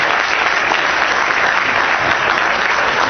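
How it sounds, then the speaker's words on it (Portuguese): Loud, sustained clapping from an audience at an academic week event honoring a lecturer, an even wash of many hands close by with no talk over it. "Mais uma salva de palmas aqui"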